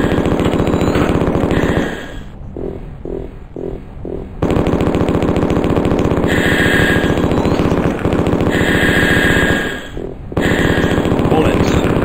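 An Uzi 9mm machine gun rattles in the 1995 DOS shooter Mortal Coil, with long loud bursts of rapid automatic fire broken by short pauses and a few single shots in the gaps.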